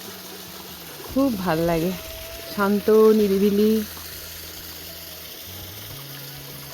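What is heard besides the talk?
small hill stream flowing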